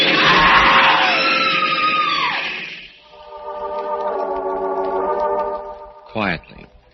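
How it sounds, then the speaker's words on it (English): A woman screams in an old-time radio horror drama, a long, loud, high shriek that fades out, followed by a musical sting and a short final outburst. "A woman screams."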